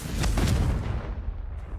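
A Confringo spell explosion in the Hogwarts Legacy video game gives a short, deep booming burst that rumbles and fades out over about a second.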